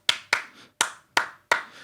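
Hands clap out the 2/3 son clave pattern for Cuban music, five crisp claps in an uneven two-then-three grouping, close and clear with no talk over them.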